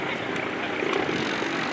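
An FM-2 Wildcat's propeller engine drones steadily at an airshow, a loud, continuous roar that holds level throughout with no pauses.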